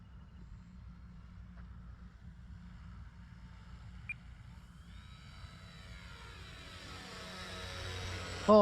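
An EC 1500 RC model airplane flies at a distance, its faint engine drone steady at first, then swelling into a rising, louder whine as it comes nearer, over constant outdoor wind rumble.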